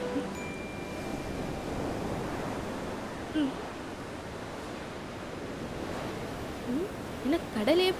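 Sea waves wash steadily onto the shore as a broad, continuous surf roar with light wind. Brief faint chirps and voices surface near the end.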